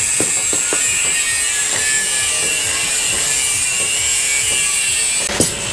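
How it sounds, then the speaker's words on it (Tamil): Double-sided threaded rod being cut in two in a welding workshop, a steady rasping saw stroke repeating close by with a few sharp metallic ticks, no talking. "டபுள் சைடு த்ரெட்டை வாங்கி அதை தான் இப்போ பசங்க கட் பண்ணுறாங்க."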